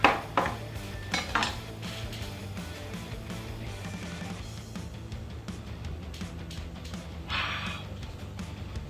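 Tender, fall-off-the-bone birria meat being cut apart with a spoon in a pot: a few metal clinks and scrapes early on, then softer scraping against a steady low background.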